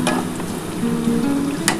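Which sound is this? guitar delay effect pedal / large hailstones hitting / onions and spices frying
onions and spices frying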